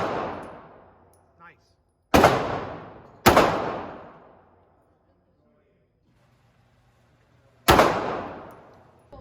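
M&P Bodyguard 380 pistol fired at a range, three loud, sharp, close shots spaced a few seconds apart, each with a decaying echo, and quiet pauses between them.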